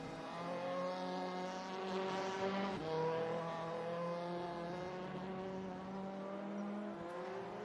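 WTCC touring cars with launch control line up for practice starts at Shanghai in the RaceRoom racing game, several engines holding a steady, buzzing rev together with slight rises and dips, loud and continuous without talk.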